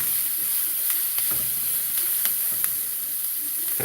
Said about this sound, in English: And you saute it, stir it up, and it starts sauteing and releasing the flavor of the onion in the rice.